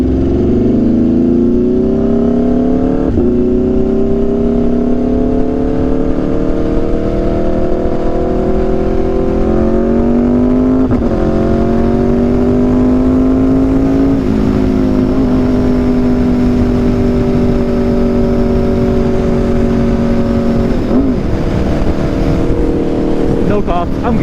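An Aprilia RSV4 with an SC-Project CRT exhaust growls loudly and continuously while riding, its engine note climbing through gear changes over heavy wind buffeting on a rainy ride.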